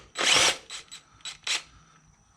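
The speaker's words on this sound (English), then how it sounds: "We're gonna do that with a drill." A power drill backs out the 8mm bolt holding an ignition coil on a 2006-2009 Ford Fusion 2.3L: one long whirring burst, then three or four short, close bursts before it stops.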